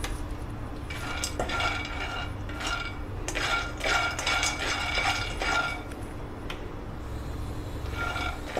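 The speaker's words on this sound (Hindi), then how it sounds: "इस पे हम एक कटोरी मूंगफली लेंगे और उनको हम भूनेंगे" A bowl of peanuts is dry-roasted in a hot pan, stirred with clinks and scrapes against the metal in irregular bursts over a low steady background.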